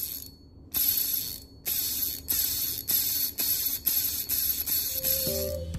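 A Pioneer Falcon fishing reel with a screw-in aluminium handle ratchets as the handle turns, giving crisp, close, repeated bursts of clicking separated by short pauses.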